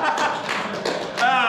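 A small group in an adult Sunday school gathering clapping briefly, a handful of quick, close claps in an uneven burst lasting about a second, mixed with a voice.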